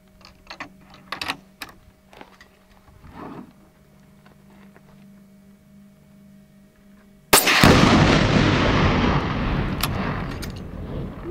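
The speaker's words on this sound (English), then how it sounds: "We're going to shoot our tannerite down there" A rifle shot sets off a tannerite explosive charge at a shooting range, producing one sudden, loud, broadband blast whose roar decays slowly over several seconds, preceded by quieter handling knocks and faint scattered sounds.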